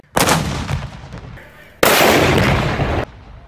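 An 1839 10-inch seacoast howitzer fires a 6-pound black powder charge, giving two loud, sharp booms with long rumbling tails, close by, one near the start and another about halfway through, with faint crowd noise between.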